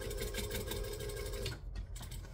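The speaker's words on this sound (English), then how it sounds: "And then I'm going to stitch on top." Sewing machine stitching on top of a craft tote, a fast even rattling hum for about a second and a half before it slows and stops, close and clear.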